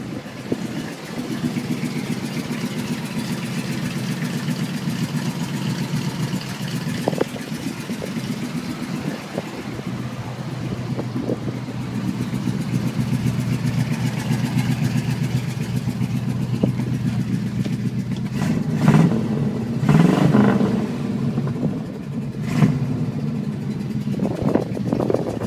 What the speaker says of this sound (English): Notice the motor runs very smooth and no real shimmies or anything like that.